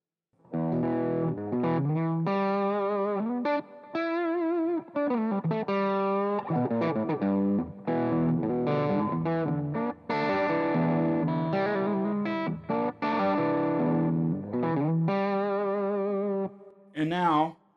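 An electric guitar amp turned down to one quarter through an Ultimate Attenuator gives a run of distorted, sustained notes and chords. They play loud and close, broken by short pauses.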